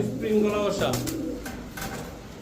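Pakistani teddy pigeons give a soft, throaty coo close by, a short rolling call that fades into quieter bird sounds and faint talk.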